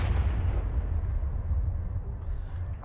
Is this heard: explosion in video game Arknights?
yes